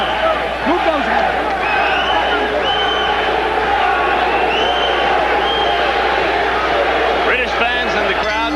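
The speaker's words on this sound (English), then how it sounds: "British fans in the crowd chanting for their man, Gary Jacobs" British boxing fans in a large arena crowd chant for their fighter during a WBC welterweight title bout, a loud, sustained rhythmic roar with rising whoops, under a commentator talking.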